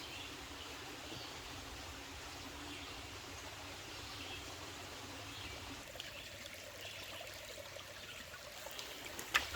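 Creek water flowing beside a campsite, a soft continuous rushing trickle at low level with a faint bird chirp near the end.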